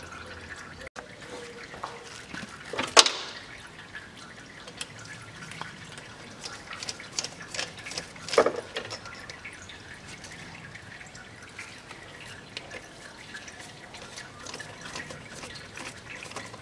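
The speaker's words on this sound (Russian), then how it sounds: "Сейчас у нас из-под теплообменника масло побежит." Oil running from under the CVT heat exchanger of a 2014 Nissan X-Trail, a faint trickle and drip with a couple of louder clunks, quiet and close.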